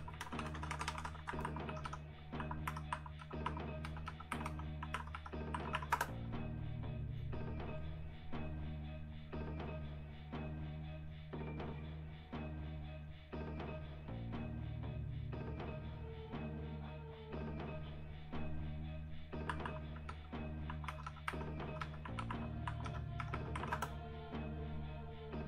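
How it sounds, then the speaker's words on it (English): Steady, rapid typing on a computer keyboard as a URL is entered, with dense clacking keystrokes over a continuous low hum and no voices. "Let me type in this Twitter URL."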